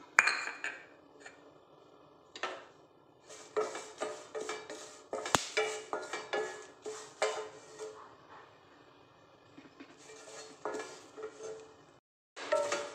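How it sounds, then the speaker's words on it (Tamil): Curry leaves dry-roasting in a pan for homemade idli podi, with repeated clinks and scrapes of a spatula stirring against the metal in quick irregular bursts, close and fairly quiet, without talk. "கருவேப்பிலையும் வறுத்து எடுத்துக்கிறோம்."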